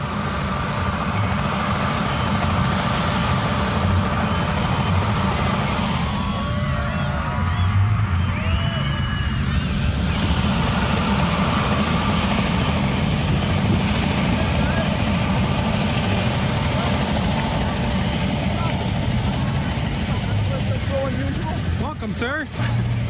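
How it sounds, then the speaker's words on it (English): A helicopter arrives with a loud, steady rotor whir and engine roar that persists for the whole stretch, close and dominant, with voices mixed in beneath it. "we heard the whir of helicopter blades as Bill Nye, our CEO, arrived."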